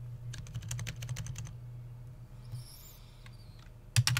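Quick clatter of keystrokes on a computer keyboard, a run of taps, a short pause with faint background sounds, then a couple of louder final key presses.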